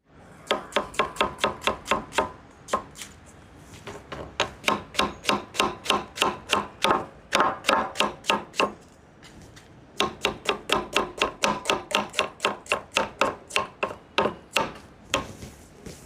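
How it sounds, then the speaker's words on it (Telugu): A knife cuts two medium onions lengthwise into thin slices on a board, a fast, steady run of crisp chopping knocks in two long bursts with a short pause between, close and clear, with no talking. "ఇప్పుడు 2 మీడియం సైజు ఉల్లిపాయలని పొడవుగా కట్ చేసుకుందాం."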